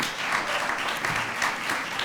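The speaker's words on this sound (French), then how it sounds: "Merci, on peut les applaudir." A short burst of steady applause from a conference audience at a Paris marketing forum keynote, moderately distant and even, with no talk over it.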